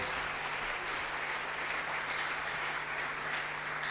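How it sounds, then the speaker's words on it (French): A church congregation applauding together, a dense, even wash of clapping that holds steady throughout, moderately loud and without talk on top. "Acclamons la parole de Dieu."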